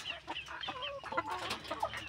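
Chickens at a small family egg business cluck softly in a quick, uneven series of short calls, faint and close by, with no talk over them.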